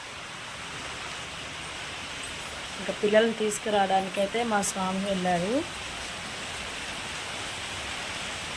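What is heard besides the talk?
heavy rain falling outside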